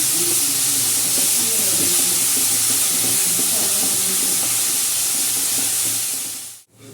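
Tomato puree and spices fry in a pan for an okra curry, a steady loud hissing sizzle with faint stirring that cuts off abruptly near the end.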